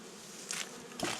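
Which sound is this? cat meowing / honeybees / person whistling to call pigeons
honeybees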